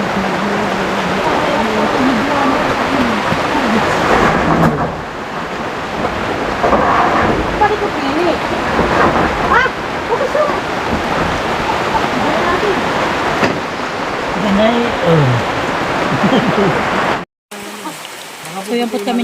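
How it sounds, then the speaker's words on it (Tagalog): Heavy rain pours down in a dense, steady roar, with faint voices underneath and a brief break near the end. "Ayan guys, at biglang umulan na po ng malakas."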